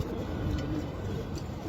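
Low, soft pigeon coos repeat against a steady background hum, fairly quiet and unhurried.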